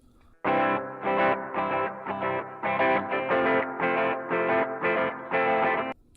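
Lo-fi, distorted electric guitar plays a chopped, rhythmic pattern of repeated chords, with a warbling delay effect giving each stroke a wobbly, filtered tone.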